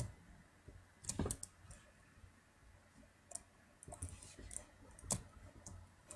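Mouse clicks in Rome Total War, a few short sharp clicks spaced apart, including quick doubled clicks, faint against a quiet background.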